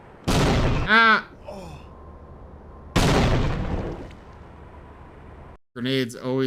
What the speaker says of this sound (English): Grenades always get me.